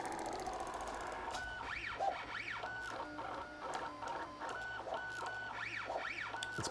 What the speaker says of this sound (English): It's probably the extruder you're hearing the most.